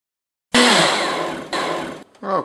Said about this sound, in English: So this blender, nice soup setting.